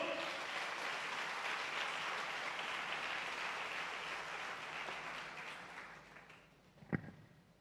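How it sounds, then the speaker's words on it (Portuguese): A church congregation applauds together in a dense, steady wash of clapping that fades slowly toward the end, with one sharp louder clap near the close. "Você pode aplaudir o Senhor?"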